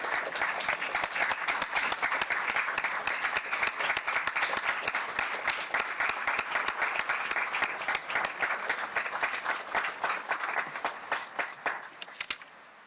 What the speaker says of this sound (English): let's give them a good round of applause for what they've done